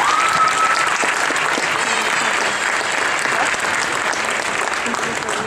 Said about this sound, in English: Give them one big round of applause.